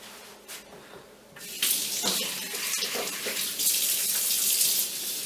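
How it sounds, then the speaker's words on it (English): A kitchen tap, used for handwashing during cooking, starts after a quiet moment and gushes steadily, a bright splashing hiss of water into a sink that continues close and fairly loud. "Wash your hands again."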